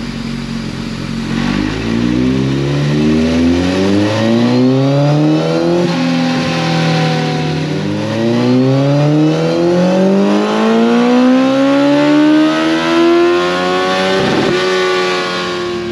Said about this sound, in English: We'll let y'all listen to this Two Brothers here and see what y'all think about it.